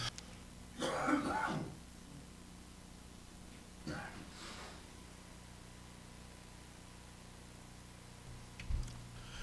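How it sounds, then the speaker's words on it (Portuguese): A man with a lingering cough after the flu coughs and clears his throat in a quiet studio, with one harsh burst near the start, a shorter one midway and a faint one near the end. "A tosse pós-gripe."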